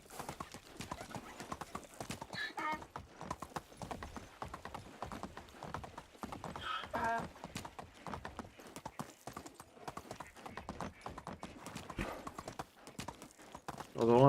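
Horse hooves clip-clop in a steady, rapid rhythm throughout a ride in the medieval life game Medieval Dynasty, moderately loud with occasional whinnies and faint background voice.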